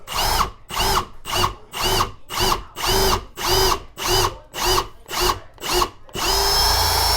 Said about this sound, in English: it's just a matter of drilling the pilot hole.